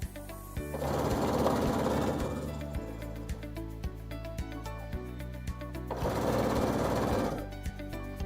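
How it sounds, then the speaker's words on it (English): A sewing machine top stitches around a quilt-as-you-go stitch-and-flip hot pad in two sustained whirring runs. Rapid needle clatter fills each run, with a pause of slower ticking between them. "now I just continue top stitching all the way around."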